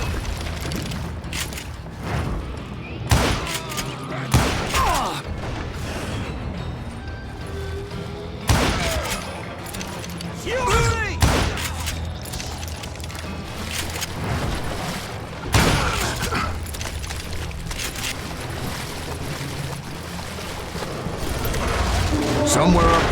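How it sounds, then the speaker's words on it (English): Gunfire volley in the Western shooter game Call of Juarez: Gunslinger, with repeated loud shots and booms scattered across the clip over a busy mix of game noise, bursting irregularly rather than in a steady rhythm. "a fusillade of bullets come raining down from on high"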